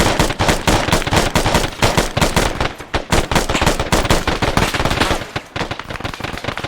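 Dense automatic gunfire in the Arma 3 military shooter during a base assault, loud continuous rapid bursts overlapping with no pause throughout.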